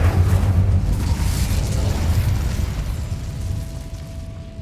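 Incendio fire spell cast in Hogwarts Legacy, a loud roaring burst of flame that fades slowly over several seconds.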